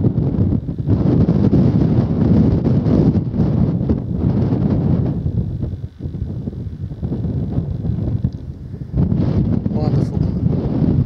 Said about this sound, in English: Quite blowy though, as you can possibly hear.